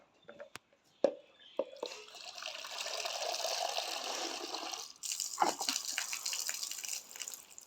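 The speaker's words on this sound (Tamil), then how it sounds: "மக்கில் தண்ணி பிடிச்சி கழுவுறீங்களா?" Water splashes and pours as a small child rinses sandals using water scooped from a mug, a steady wash of noise broken by a few drips and knocks, with a pause before a second pour.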